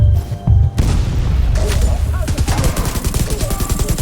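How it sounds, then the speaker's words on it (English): Grenade blast in The Division 2 amid a firefight, a heavy boom near the start followed by sustained rapid gunfire crackling through the rest, with a voice occasionally underneath. "Lob a grenade over at them"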